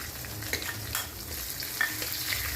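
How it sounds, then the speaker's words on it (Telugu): Peanuts and onions frying in a pan, a steady close sizzle with occasional stirring scrapes and small pops, no voices. "ఇందులోనే పల్లీలు కొంచెం వేగాలి"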